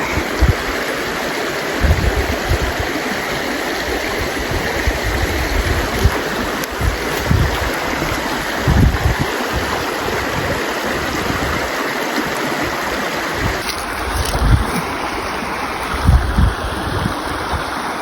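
Water rushes steadily down a trout creek, a dense, continuous broadband wash with small gurgles and splashes, close and fairly loud, with a touch of wind buffeting the microphone.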